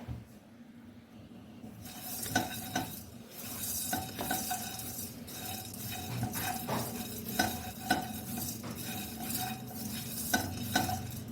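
Fennel seeds and spices dry roasting in a pan, a steady close scratchy rattle of stirring with sharp metallic scrapes and clinks against the pan, with no talking.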